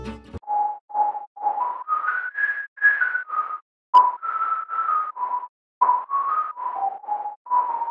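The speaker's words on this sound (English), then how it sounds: "For the second part of the drop, I added a whistle sound that plays the lead melody." A synthesized whistle lead in FL Studio plays a future house drop melody, a clean series of short, tuneful notes stepping up and down in pitch, alone and with brief gaps between phrases.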